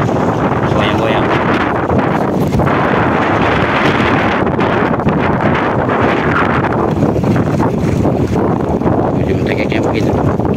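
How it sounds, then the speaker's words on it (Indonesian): Strong, gusty wind buffets the microphone on a small fishing boat at sea, a continuous loud roar with rushing surges throughout, with no clear voices. "Ini anginnya gede banget. Kencang dari samping lagi kan."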